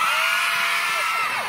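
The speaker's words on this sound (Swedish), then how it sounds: "Hur låter det högsta skriket ni har?" An audience at an Ekeby 2016 warm-up lets out a loud, sustained group scream, with high shrieks and yells rising and sliding in pitch over a steady wall of voices.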